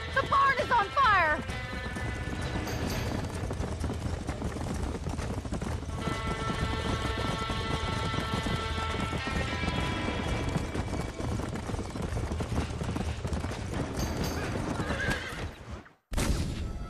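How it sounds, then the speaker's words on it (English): Horses in the Red Dead Redemption video game, trapped in a burning barn on a ranch, whinny repeatedly while hooves clatter in a steady gallop under a dense, loud wash of noise that cuts out abruptly near the end. "Horses out! They're trapped in there!"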